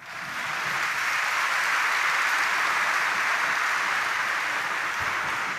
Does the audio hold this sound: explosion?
no